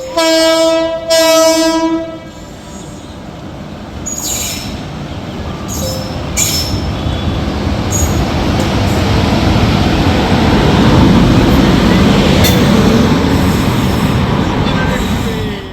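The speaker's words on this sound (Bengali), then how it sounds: "ট্রেনের হঠাৎ আওয়াজে আমরা যেই না সতর্ক হয়েছি" A train horn blasts twice up close, then a long loud rush of a Vande Bharat express speeding past with rattling wheels and squeals.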